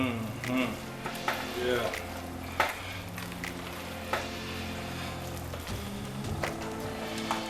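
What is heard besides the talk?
stirring pepper into a cheesy mixture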